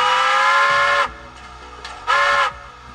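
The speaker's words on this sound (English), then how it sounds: "Now we need to pick our whistle." A model railroad steam locomotive whistle from a SoundTraxx sound decoder gives two loud, bright chime blasts: one about a second long, then a short gap with faint hiss, then a second shorter blast.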